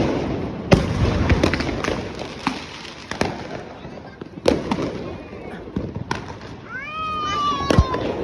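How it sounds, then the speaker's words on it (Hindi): Diwali firecrackers and sky shot fireworks go off outside a new home, with sharp cracks and pops scattered throughout, whistling rockets rising near the end, and a family chattering in the background. "देखो पापा क्रैकर्स बस्ट करेंगे।"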